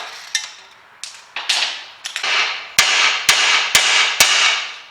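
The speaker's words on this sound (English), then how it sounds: "Now just hitting the stub axle wasn't hitting the actual track rod end" A hammer strikes the stub axle of an Audi TT to free the track rod end, about nine sharp metallic blows in an uneven rhythm, close and loud, each ringing briefly before the next.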